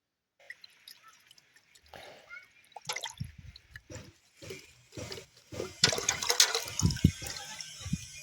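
A bottle that held molasses is rinsed out with water, giving irregular splashes, drips and gurgles that swell into a louder, busier sloshing toward the end, heard close and without talk.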